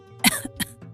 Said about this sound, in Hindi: पता नहीं कब ये खांसी जाएगी